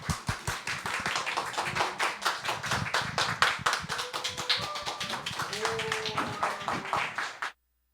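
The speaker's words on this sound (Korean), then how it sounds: "우리 큰 박수로 앞으로 모시도록 하겠습니다" A small audience claps close by to welcome a speaker. The applause is brisk and slightly uneven, a few voices murmur under it, and it stops abruptly at the end.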